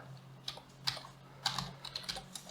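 Close fingers tapping a computer keyboard while writing CSS code, an uneven run of soft, quick keystrokes with brief pauses, heard alone at low volume.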